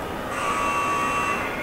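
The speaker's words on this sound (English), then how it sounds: "And an alarm." An alarm buzzer blares in the SOMA video game, one sustained electronic tone that starts shortly after a quiet moment and holds steadily for about a second before stopping, heard alone without talk.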